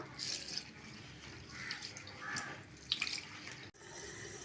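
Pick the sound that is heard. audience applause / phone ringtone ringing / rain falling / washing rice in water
washing rice in water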